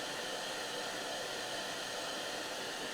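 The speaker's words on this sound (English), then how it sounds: "I'm going to hit this with the hairdryer again." A hairdryer blows steadily at close range over freshly painted wood, a loud, constant broadband whoosh with no pauses for the whole stretch.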